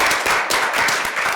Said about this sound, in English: let's give one last round of applause for our judges